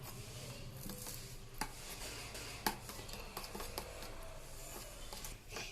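A utensil whisks and scrapes through an egg mixture with coriander leaves in a bowl for a bread omelette, giving a steady, low rubbing swish broken by occasional light clinks against the bowl, with no voices.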